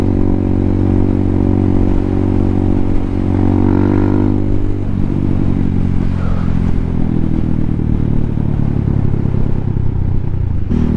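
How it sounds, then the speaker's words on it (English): An RPS Hawk 250 motorcycle with a carbureted engine idles steadily after starting, a loud, continuous low rumble with no speech. "Starts up, wait like 30 seconds to a minute, turn the plunger off, and my idle is sitting pretty."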